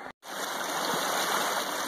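Steady rushing flow of a mountain stream at the water source right beside Wapiti Shelter on the Appalachian Trail, close and continuous after a brief silent gap at the start.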